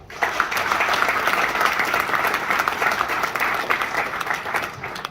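A large audience claps steadily and densely, sustained applause at an even level for about five seconds with no voices standing out.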